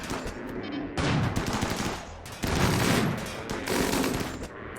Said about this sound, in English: Oh, the autocannons are doing such good work at this close range, though.